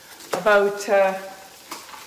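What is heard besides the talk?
onions frying in a pan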